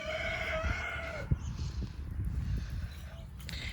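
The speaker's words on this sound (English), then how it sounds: "He's got lately where he goes to this little crowing jag" A backyard rooster near a coop on a snowy day lets out one long, clear crow at the start, followed by quieter outdoor rustling and faint bird sounds.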